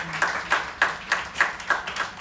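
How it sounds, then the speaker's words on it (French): Timid audience applause after a card magic trick: a few slow, evenly spaced claps, about seven in a row, soft and roomy, with no talking. "c'est des applaudissements timides"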